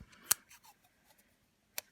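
Non-stick scissors snip heat resistant tape in two quick, crisp cuts about a second and a half apart, close and isolated with quiet in between.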